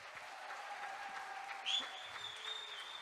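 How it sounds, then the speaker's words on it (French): Applause from an audience at a youth event of the Allier departmental council in France as a performer comes on stage: steady, moderate clapping throughout, with a brief whistle and faint background noise. "On applaudit jusqu'à ce qu'il arrive et qu'il attrape le micro."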